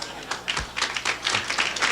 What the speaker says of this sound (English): The only guy clapping is the one that raised his hand